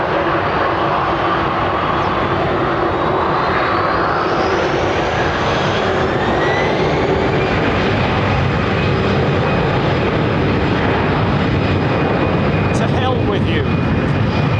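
A large double-decker airliner at London Heathrow Airport produces a loud, continuous engine roar and broadband rush that holds steady throughout, with a faint rising whine in the background.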